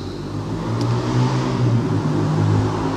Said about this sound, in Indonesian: Ada bunyi motor